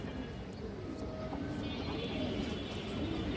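A silver pigeon coos softly in low, repeated murmurs against a steady background hum, faint and close by.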